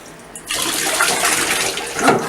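Running water pours steadily and loudly as a puppy gets its first bath, starting abruptly after a quiet moment and continuing as a strong, close splashing rush.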